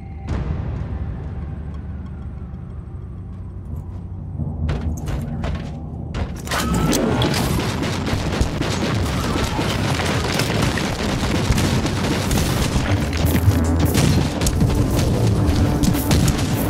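A grenade explosion in the video game Warhammer 40000: Inquisitor Martyr, where a few sharp clanks and thuds lead into a loud, sustained booming blast and a dense rumble of combat noise that fills the rest of the scene.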